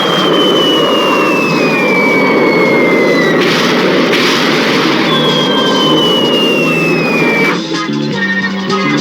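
Bomber aircraft engines roaring overhead in an old action serial, a loud continuous jet-like drone with a falling whine sweeping down twice, fading slightly near the end.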